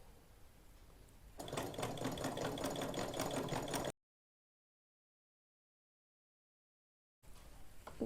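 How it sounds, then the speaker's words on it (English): A sewing machine stitching slowly, a steady mechanical whirring hum with a fast needle rattle, close and even, stopping abruptly into silence before starting up again briefly. "Just start your stitching very slowly."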